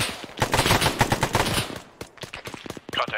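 Gunfire in a tactical shooting game: dense bursts of rapid automatic shots crackling close and loud, then sparser single cracks and short volleys spaced out toward the end.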